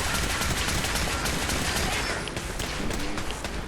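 Rapid gunfire rattles in Fallout 4, a loud, continuous barrage of overlapping shots and bursts with a busy, crackling texture that barely lets up for several seconds.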